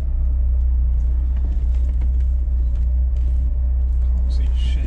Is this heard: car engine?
yes